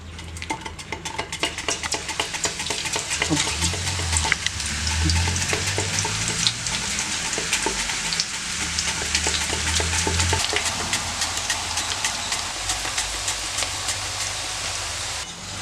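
Thin slices of raw banana fry in hot coconut oil for Kerala-style chips, a dense, continuous sizzle and bubbling with occasional light clinks of a utensil stirring in the pan, close and steady throughout.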